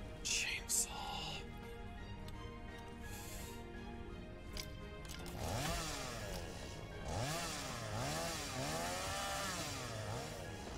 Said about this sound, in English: I love the chainsaw because it actually clears out an entire area.